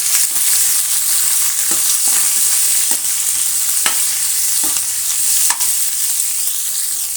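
Sliced onions and curry leaves fry in a hot pan for coconut rice, a loud, steady sizzle running throughout, broken by several sharp scrapes and clinks of a spoon stirring against the pan.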